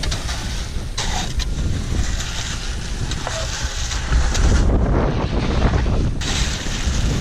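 Strong wind gusts buffet the microphone at an outdoor construction site during a concrete pour, a continuous rough roar that swells louder midway, with no talking.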